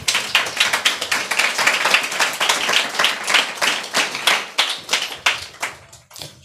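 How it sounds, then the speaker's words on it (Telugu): A church congregation claps together during a Sunday service, a steady run of sharp, rhythmic handclaps that slows and thins out near the end. "చప్పట్లు కొడతామా?"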